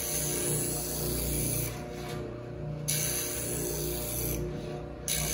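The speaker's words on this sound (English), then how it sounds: "The oscillating spindle sander is gonna not only rotate, but it also moves up and down." An oscillating spindle sander runs steadily with a droning motor hum while a piece is pushed against the rotating, rising and falling drum, the grinding rasp swelling and easing as the wood is sanded.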